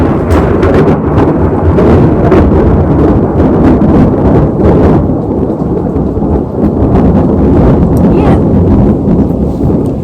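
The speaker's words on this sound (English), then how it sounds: "I'm outside, and it is raining and lightning" Heavy rain pouring outdoors during a thunderstorm with lightning, a loud dense hiss of drops mixed with wind gusts and low rumbling, continuous and close throughout.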